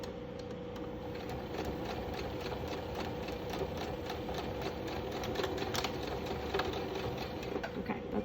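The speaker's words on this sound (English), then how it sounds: "I just sew along that edge" A sewing machine stitches along the edge of fabric for a homemade mask, a quiet, steady, fast mechanical whir with rhythmic ticking that runs unbroken throughout, with no talking.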